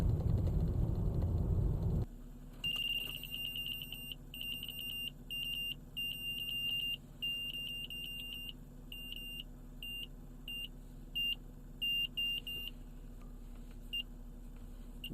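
A Uniden R7 radar detector gives short, repeated high-pitched alert blips in an irregular pattern over a steady low vehicle hum.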